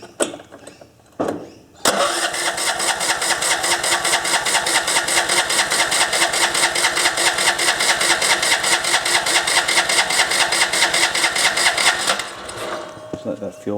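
An MTD ride-on mower engine cranks, catches and runs loud and close, its revs rising and falling in an uneven surge before cutting back near the end.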